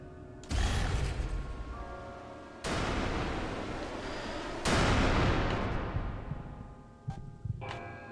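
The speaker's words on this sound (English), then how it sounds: "Oh, explosions. Of course, small explosion." Loud bursts of video game explosions in Hollow, three heavy booming blasts at roughly two-second spacing, each with a long rumbling decay, followed by fainter mechanical clatter, with no talk.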